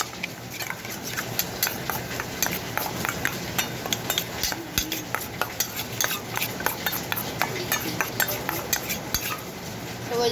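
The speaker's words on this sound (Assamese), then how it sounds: "চামুচখন দি মই সেই কৰো অলপ এখিনি মিক্স কৰি দিওঁ বাটিত থকাখিনি মিক্স কৰি দিওঁ" A spoon beating egg, onion and Maggi masala in a bowl, a quick steady run of light clinking taps against the sides, close and continuous for about ten seconds.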